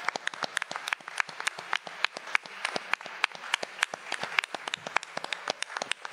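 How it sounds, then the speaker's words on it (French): An audience at a college election debate claps for visiting students, with distinct, fairly sparse individual claps ringing out in an irregular, steady patter from a modest-sized crowd. "J'aimerais qu'on les applaudisse"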